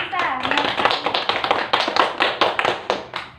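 A small classroom group claps in quick, uneven bursts for about three seconds, close and fairly loud, with a voice speaking over the applause.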